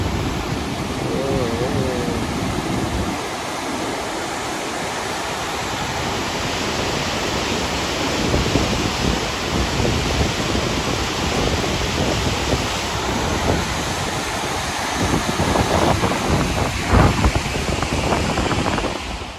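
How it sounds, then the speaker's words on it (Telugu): The Sutlej river rushes in a strong, steady roar of churning water that fills the scene, with wind buffeting the microphone now and then. "సట్లెజ్ రివర్. ఎంత ఫ్లో ఉందో చూడు"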